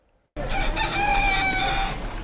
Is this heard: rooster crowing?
yes